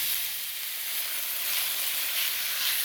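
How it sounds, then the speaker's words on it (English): Vegetables and chorizo sizzle steadily in a hot pan for a rice bowl, giving a continuous, fairly loud crackling hiss with no talk over it. "dump in the vegetables and the chorizo"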